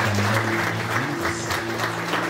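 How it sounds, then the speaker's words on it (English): A church congregation at a staff fellowship claps hands together in praise, producing steady, continuous applause throughout with a sustained musical tone running beneath. "Let's clap our hands and appreciate the Lord."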